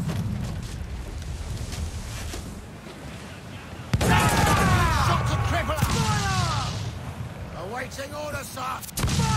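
Ship cannons fire a broadside in Assassin's Creed IV Black Flag, heavy booming blasts that roll one into another, with a sudden loud volley midway and whistling, crackling debris afterward.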